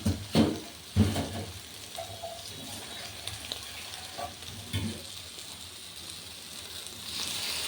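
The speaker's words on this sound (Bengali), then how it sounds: "কিছুটা জল দিয়ে ঢাকা দিয়ে সুন্দর করে কষতে দেব" A spice mixture sizzles steadily in a pan, with a few sharp spatula knocks early on, then a softer hiss and bubbling once water is poured in, and no one speaking.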